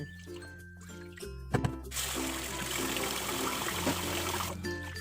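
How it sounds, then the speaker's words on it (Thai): Sticky rice is swished and rinsed in water, first with a few light splashes and clinks, then a steady rushing pour of water running over the grains, close and fairly loud. "ก่อนอื่นเราต้องล้างข้าวเหนียวก่อนนะคะ"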